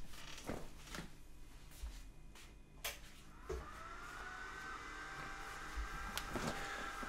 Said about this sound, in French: Normalement, on doit l'entendre, le ventilateur.